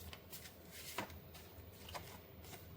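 Tarot cards being shuffled, a soft papery riffle with a few crisp flicks, close and fairly quiet over a low background hum.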